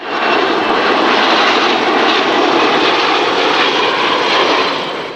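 Boeing 727 jet airliner of No. 40 Squadron RNZAF at an air show, a loud, steady engine roar that holds constant throughout, with no voices.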